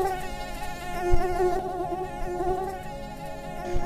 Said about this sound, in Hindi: कुछ मच्छर उसके आसपास मंडराने लगते हैं।